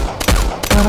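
Loud gunfire bursts in a shooting video game, two sharp rapid volleys within a second, close and punchy with no talk over them.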